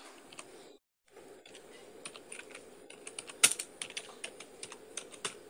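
Keys on a computer keyboard clatter close by in quick, irregular bursts of typing after a short silent gap, with a few louder individual keystrokes.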